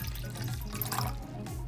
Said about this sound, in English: In a separate bowl, you will add 1/2 cup of water